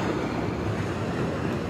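Roaring flood water surges through Rahimabad in Gilgit, a loud, continuous broadband rush with steady turbulent churning and no pauses across the short stretch.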